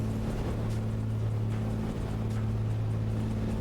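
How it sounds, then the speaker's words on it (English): Damaged Piper Comanche engine in the A2A flight simulator running rough with a cylinder out, a steady droning hum with uneven pulsing under the cockpit noise. "hear the engine struggling"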